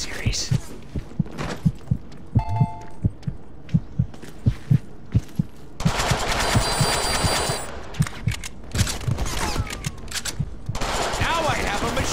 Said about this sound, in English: Now I have a machine gun.